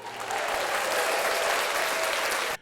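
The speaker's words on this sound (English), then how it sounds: "let's clap it up for him" Steady crowd applause fills the space at close range for about two and a half seconds, dense and even, then cuts off abruptly.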